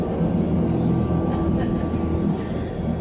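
A train on the Jungfraubahn rack railway in the Swiss Alps rumbles steadily with a continuous low mechanical drone and faint squeals, loud and close throughout.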